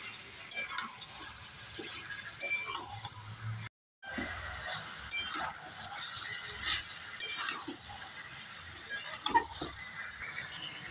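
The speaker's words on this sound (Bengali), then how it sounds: "এবার নেড়ে চেড়ে মাংসটাকে ভালোভাবে কষে নেব।" Meat being stirred and fried in a pan while mango leaves wait to go in, with faint sizzling beneath scattered scrapes and clinks of a spoon against the pan, plus a brief dropout partway through.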